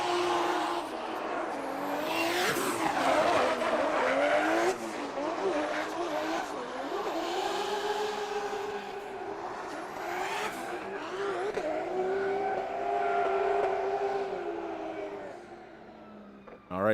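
A JZ-powered Nissan S14.5 drift car at a Formula D Pro-Am round at Lake Erie Speedway, its engine screaming and bouncing off the limiter with tire squeal through a continuous run, heard from trackside.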